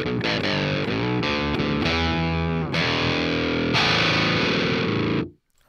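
Electric guitar played through a PolyChrome DSP Synth Octaver effect, a loud, thick, distorted synth-like tone with several sustained chords and note changes, ending abruptly, with no talk.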